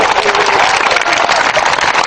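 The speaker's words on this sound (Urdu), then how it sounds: "زردار جی تالیاں" Audience at a funny Punjabi poetry recital breaking into loud, dense applause, many hands clapping close and continuous across the whole moment.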